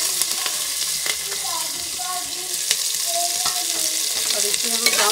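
Finely chopped chilies and onions fry in ghee for vegetable pulao, giving a steady close sizzle with scattered clinks and scrapes of stirring throughout, and no voices.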